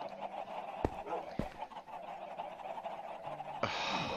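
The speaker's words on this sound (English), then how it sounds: "Are those chickens? So many chickens in the" Busy Minecraft chicken clucking and honking from a flock, a couple of sharp clicks, then a louder steady hiss near the end.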